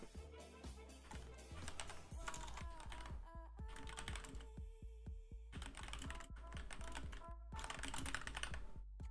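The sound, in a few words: typing on a computer keyboard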